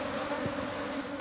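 Bees swarm around a hive in a dense, steady buzz, close and continuous with a faint hum underneath, no voices present.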